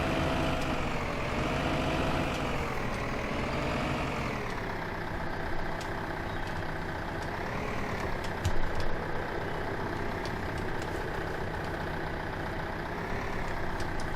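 Tractor engine in the farming video game Farming Simulator 2015, a steady droning hum with gently wavering pitch and faint clicks, continuous and fairly close.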